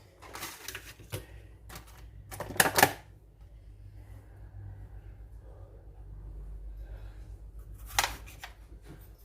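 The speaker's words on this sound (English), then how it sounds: "Dice this tomato." Knife dicing a tomato on a cutting board for a cheesy casserole bread, heard as quick clustered chopping taps in bursts with pauses between, fairly close and moderately loud over a low background hum.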